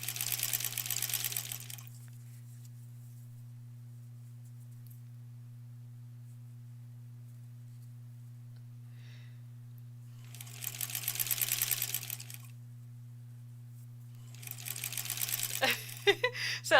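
A home sewing machine stitching pieces for a granny squares quilt border, running in three bursts of a second or two each separated by quiet gaps, over a steady low hum.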